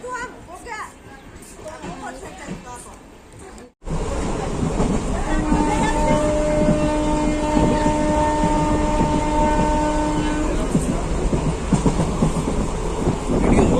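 Voices talk briefly at first, then a train ride takes over with a loud, continuous rumble and steady whining tones running through it.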